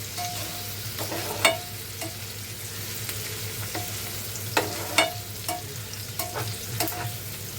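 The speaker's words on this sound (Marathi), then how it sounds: "हे बघा आपला कांदा मस्त असं ना छान शिजतोय." Chopped onion frying in hot oil in a pan, a steady low sizzle broken by sharp scrapes and clinks as a spoon stirs it every second or two, close up, with no talking.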